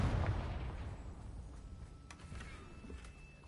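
The Confringo spell is cast in Hogwarts Legacy, a deep booming blast that rumbles out and decays over a few seconds, followed by faint magical chimes and small pops, with no talk.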